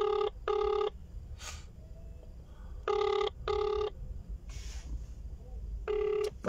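Telephone ringback tone repeating in three double bursts during an unanswered call, clear and steady with quiet gaps between rings and no talk.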